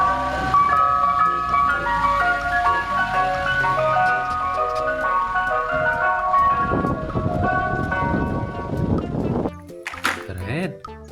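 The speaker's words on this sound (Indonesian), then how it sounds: "Wow, ada mobil es krim." A toy ice cream truck plays its jingle melody loudly and close, a bright repeating tune that ends with some rattling and handling noise; no speech.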